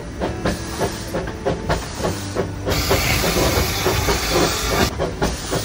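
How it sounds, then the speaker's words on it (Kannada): A Darjeeling steam locomotive hisses loudly and continuously up close, with rhythmic chuffing pulses and bursts of venting steam that swell midway and stay strong to the end. "ನನ್ನ ಜೀವನದ ಅತಿ ಅದ್ಭುತವಾದ ಅನುಭವವೇ ಈ ಸ್ಟೀಮ್ ಇಂಜಿನ್ ಜಾಲಿ ರೈಡ"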